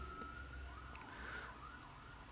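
Emergency vehicle sirens sound outside a room, a steady wailing tone over a low constant rumble of background noise, muffled and moderately distant.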